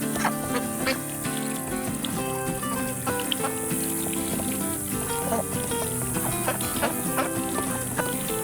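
Water runs and splashes steadily during a test run of an automatic backyard duck coop's water system while ducks quack repeatedly nearby, their calls scattered across a constant watery wash.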